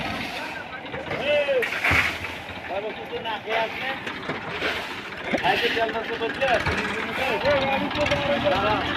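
A tractor is driven around at a roadside spot in Chandina, Cumilla. Its engine rumbles steadily and close by for the whole stretch, with people talking over it.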